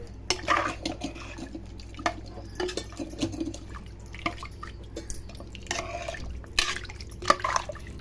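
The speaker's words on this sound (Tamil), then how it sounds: "இப்போ நல்லா கலந்து விட்டுக்குங்க." Chicken biryani mixture with yogurt, lemon and water being stirred in a pot or pressure cooker, giving soft wet sloshing and scattered light clinks of a utensil against the metal pot, close and fairly quiet with no talk.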